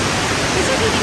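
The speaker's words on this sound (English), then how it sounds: "this is a tiny falls compared to the other falls that we saw" A small waterfall in Jasper, Alberta gives a steady, close broadband rush of falling water through the whole moment, with no pauses or changes.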